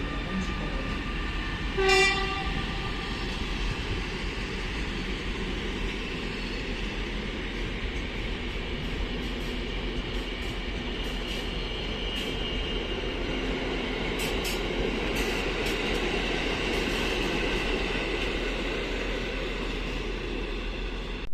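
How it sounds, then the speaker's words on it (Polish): An Intercity Kujawiak train departs Bydgoszcz Główna station, a steady loud rolling rumble of wagons with a brief horn blast early on and faint wheel squeals later. "I mamy odjazd pociągu Intercity Kujawiak ze stacji Bydgoszcz Główna do stacji Helm."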